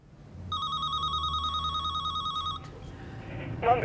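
An old-style telephone bell rings in a thriller film scene, a steady warbling trill for about two seconds that then stops, with low background music and faint movement continuing afterward.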